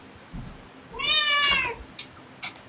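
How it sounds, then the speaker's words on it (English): A pet cat gives one drawn-out, fairly close meow with a rising-then-falling tone, followed by two short soft clicks in an otherwise quiet room. "Yeah, Cat disagrees with you."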